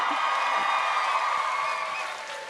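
A large crowd at a Hillary Rodham Clinton book event applauds and cheers, a steady wash of clapping with a few whoops mixed in, staying strong and then easing off slightly near the end.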